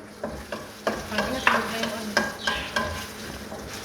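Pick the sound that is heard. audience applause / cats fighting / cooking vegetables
cooking vegetables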